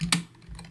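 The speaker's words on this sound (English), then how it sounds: "Start by typing London." Quick keystrokes on a computer keyboard, two or three close, crisp clicks in under a second, near and alone.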